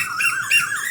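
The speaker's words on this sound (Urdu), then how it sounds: "یہ طوطے شوتے وغیرہ بول رہے ہیں" Parrots near a village mosque give two quick, harsh squawks, loud and close, with no other sounds.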